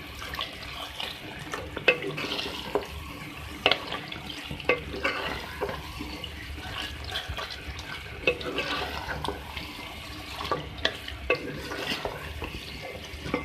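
Roasted, ground cumin and coriander being stirred into beef keema with potatoes and peas, a spoon scraping and turning the mince in the pan with steady, close clicks over a soft sizzle, no talking.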